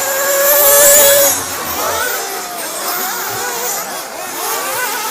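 Race cars lap a track during qualifying, several engines at once: rising and falling revs and passing whines, fairly loud and continuous, with one car louder nearby at the start.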